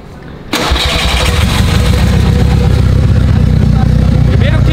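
A Volkswagen Gol turbo engine cranks and catches after a brief quiet moment, then settles into a loud, steady idle close by.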